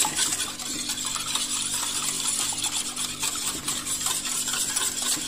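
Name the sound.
mixing vanilla crêpe batter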